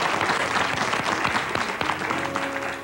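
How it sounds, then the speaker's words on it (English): Studio audience applauding a contestant at a 1986 televised male pageant, a dense sustained burst of clapping from a sizable crowd, loud and close throughout with a faint voice near the end. "Please, a round of applause for Sonny Magana from Stratford in South Jersey."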